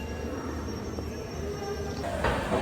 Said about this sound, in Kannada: ನಮ್ಮ ಟ್ರೈನ್ ಈಗ ಡಿಪಾರ್ಟ್ ಆಗ್ತಿದೆ